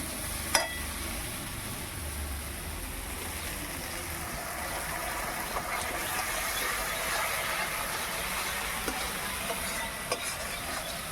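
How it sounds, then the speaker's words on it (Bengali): Mustard paste being stir-fried into a spice masala for a Bengali mustard fish curry gives a steady, soft sizzle throughout, with occasional faint scrapes of a spatula in the pan. "সর্ষে বাটাটা দিয়ে আটু কষে নেবো"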